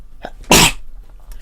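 A single loud, close sneeze bursts out in a quiet room during a Civilization V gaming session, short and sharp with a breathy intake just before it.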